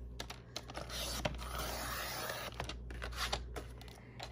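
Scissors snip through paper at the sixth fold of an accordion album, a quiet run of short crisp cuts and rustles close to the listener, with no talking.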